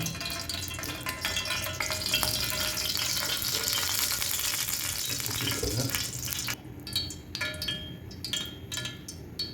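Beef balls sizzling in hot oil in a pan, a steady dense crackle that fades toward the end into scattered pops, with no talk over it.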